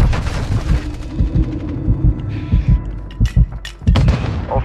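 Gunfire in the Warzone video game: a rapid string of loud, close shots and booms in irregular bursts, with brief pauses between volleys and sharp cracks toward the end.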